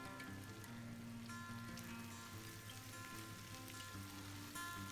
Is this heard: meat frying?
yes